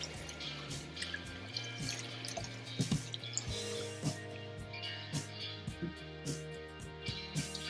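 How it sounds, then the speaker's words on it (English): Short grain rice being swished and rubbed by hand in rinsing water, with soft watery sloshes and small drips and clicks repeating over a steady low hum, fairly quiet and with no talk. "Swish the rice with claw-shaped fingers, then gently rub the rice to remove the excess starch."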